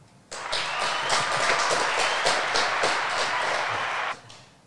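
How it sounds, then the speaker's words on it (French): An audience at a French middle-school web radio show at the Collège de La Sine breaks into dense, steady clapping for about four seconds, then stops abruptly. "Applaudissons-les très fort."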